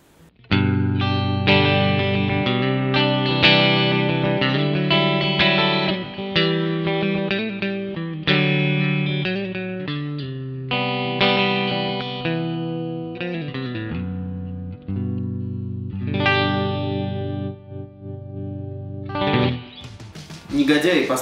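A 2002 Korean-made ESP LTD MV-200 electric guitar in its middle pickup position plays a long distorted passage of sustained chords and riffs through chorus and echo effects, loud and full with brief pauses.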